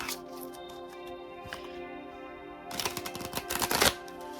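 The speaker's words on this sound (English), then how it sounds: "I am going to start by cleansing my deck. So I'm going to do that just by shuffling it." A tarot deck is shuffled by hand, giving a quick burst of dense riffling card clicks near the end, over steady soft background music.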